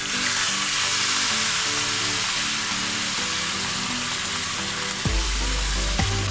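Whole chicken fries in a kazan with a loud, steady sizzle, then near the end a cup of strong black tea is poured in, making a low, gushing pour over the frying.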